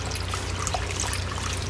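A little water poured into a pot of Malaysian fish curry, a steady close trickle and splash running for the whole moment.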